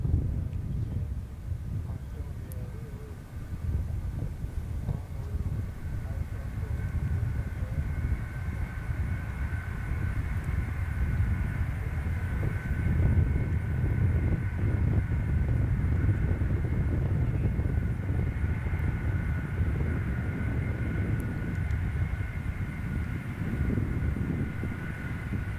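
A NASA Shuttle Carrier Aircraft jet arrives at Kennedy Space Center, heard as a steady, loud, low broadband roar with wind buffeting the microphone throughout and a faint whining tone above it.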